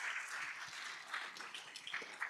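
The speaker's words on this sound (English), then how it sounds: "Round of applause for all of those folks." Applause from an event audience, a steady wash of clapping at moderate level with a few louder individual claps standing out near the end.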